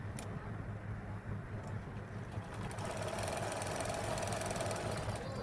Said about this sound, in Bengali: কলার উপরে টপ স্টিচ দিব, এইভাবে সুন্দর করে সেলাইটা যেন সুন্দর হয়।